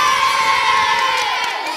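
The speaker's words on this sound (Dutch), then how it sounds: "Daar mag ik een applaus voor." Children in a sports test setting cheer loudly together, a continuous bright shout of young voices that holds steady and then eases slightly at the end.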